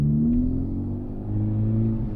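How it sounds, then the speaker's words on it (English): A manual transmission car pulls up a hill under throttle, its engine a steady low hum rising gently in pitch, heard from close by with no talk. "We're applying some throttle, and now we're moving."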